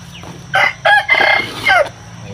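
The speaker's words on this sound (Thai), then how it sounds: "เสียงไก่" A rooster crows loud and close, one drawn-out call broken into several bursts over a low background hum.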